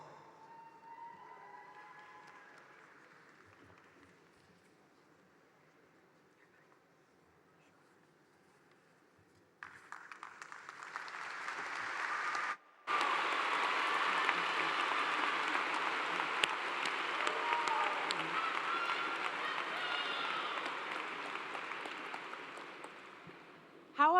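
Commencement audience applauding new master's degree recipients at Clemson University, quiet at first, then a loud, sustained wash of clapping from a large crowd that swells and holds steady after a brief break.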